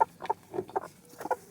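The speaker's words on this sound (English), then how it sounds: "you can hear how they're clucking" Several broody hens clucking in a dirty coop without straw, a run of short, soft, irregular clucks from close by with no talk over them.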